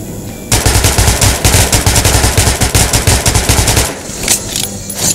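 Loud rapid automatic gunfire from a gun in Metro 2033 Redux, a steady stream of close shots lasting about three and a half seconds before cutting off, leaving faint ambient noise.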